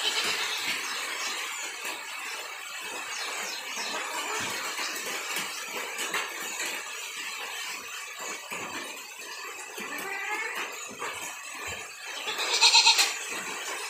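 A dairy goat bleats once near the end of a quiet farmyard morning during milking, a short nasal call rising over faint background rustle and scattered clicks, no talk.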